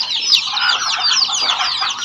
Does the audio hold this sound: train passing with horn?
no